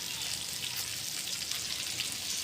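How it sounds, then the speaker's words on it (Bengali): Fish frying in a pan on an open rooftop in the afternoon, a steady bright sizzle and crackle that holds even and close throughout with no break. "এই দেখো সুন্দর একটা গদিলি বিকালবেলায় আমি কোথায় মাছ ফ্রাই করছি দেখো"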